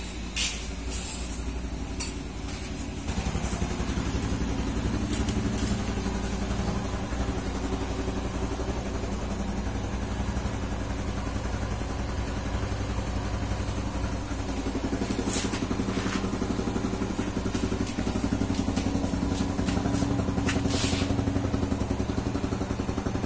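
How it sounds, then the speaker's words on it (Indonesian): Yamaha Jupiter Z1 motorcycle, a 2016 model, idling steadily while it warms up, a continuous low engine drone with faint clatter, fairly quiet and close, no talk over it. "Jadi sore ini saya lagi manasin motor."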